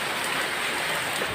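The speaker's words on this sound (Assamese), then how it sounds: "চাওক না, বৰষুণ চাৰিওফালে বৰষুণ," Steady rain falling all around outdoors near a Ganesh temple in Lakhimpur, a dense, even hiss that holds constant throughout the brief moment.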